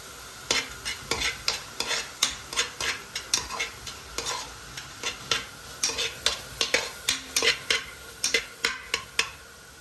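Shallots, ginger and garlic sauté in a pan while a spoon stirs and scrapes them, giving steady repeated scraping strokes over a soft sizzle, close and fairly loud, with no talking.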